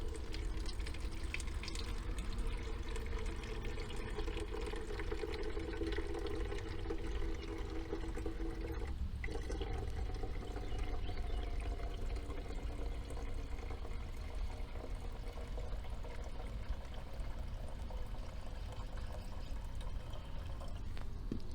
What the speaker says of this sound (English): So we'll fill this halfway up with water.